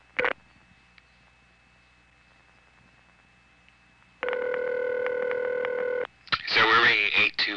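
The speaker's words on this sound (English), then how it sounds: "Now dial 7111." Dialing on a 1977 XY step-by-step telephone exchange in Goldston and Bonlee, North Carolina: a brief click, a quiet hum, a steady electronic tone lasting about two seconds, then a loud burst of switching clatter.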